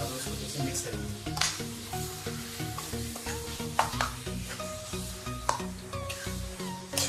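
Chicken pieces for biryani stirred in a pot over a low flame, a steady sizzle under repeated scraping and clinking of the spoon against the metal, close and fairly constant, with a few sharper knocks.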